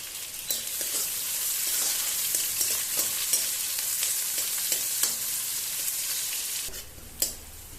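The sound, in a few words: whole cumin and onion frying in oil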